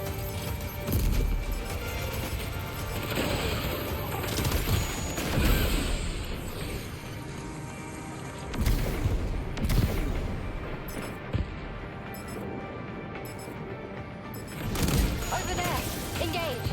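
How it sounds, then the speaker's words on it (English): Mortar fire booms repeatedly in the video game Death Stranding 2, heavy thuds and crashes scattered over a dense rumbling battle backdrop, with voices talking intermittently through the barrage. "Anytime you like to fire with the mortars."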